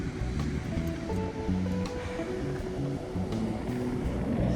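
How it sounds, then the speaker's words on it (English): Ocean waves breaking on a beach at Chincoteague Wildlife Refuge after a nor'easter, a continuous loud roar of surf with a low rumble, steady and close, no talking. "The waves are pretty big though."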